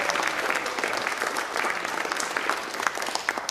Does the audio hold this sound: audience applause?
yes